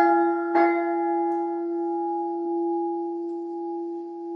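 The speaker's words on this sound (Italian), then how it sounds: "questo rintocco che abbiamo sentito è la voce benedicente della campana" A bronze church bell in the Val Comino is struck once, loud and near, and its deep humming tone lingers and slowly fades over several seconds.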